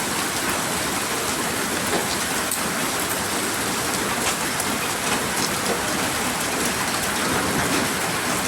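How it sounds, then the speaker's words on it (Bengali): A hailstorm pelts down in Saudi Arabia as a dense, continuous roar of rain and hail hitting surfaces. The sound is loud and close throughout, with no voices. "শিল পড়তেছে দেখেন"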